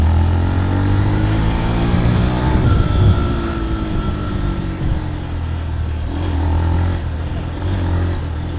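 A Yamaha FZS V4 motorcycle engine runs steadily and loud, with a droning exhaust note that swells into a rev around the middle and then settles back to a strong, even hum.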